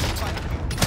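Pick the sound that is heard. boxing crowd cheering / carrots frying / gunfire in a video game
gunfire in a video game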